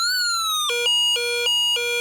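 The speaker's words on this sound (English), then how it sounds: "Now the fire engine siren sounds" Electronic fire engine siren from a Snap Circuits Arcade kit, a synthetic tone sliding down then switching into a rapid alternating two-pitch wail, loud and steady with no voices.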